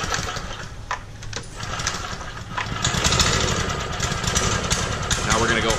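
A Lavina 13GE propane floor edger engine, heard close as it starts up and settles into a steady, loud idle, with someone speaking over it at times.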